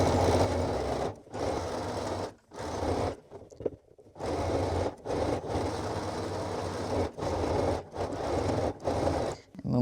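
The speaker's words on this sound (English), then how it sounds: "now we are just sewing along our hem all the way around" A sewing machine stitches the hem of a Cashmerette Wexford top or dress in repeated whirring bursts of one to two seconds, separated by short pauses. The machine is close and steady.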